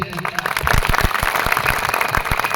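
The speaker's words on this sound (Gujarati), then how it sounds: "તો એમના માટે આપણે એકવાર જોરથી તાળીઓના ગણગણાટથી એમને આજે આપણે વધાવી લઈએ." An outdoor crowd at an Adivasi community political gathering claps for a speaker, a dense, loud burst of applause lasting a couple of seconds.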